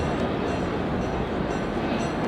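A train warming up, played as a sound effect on a stereo test record, gives a continuous, dense rumble and hiss of engine and rolling stock, steady and fairly loud throughout with no talking.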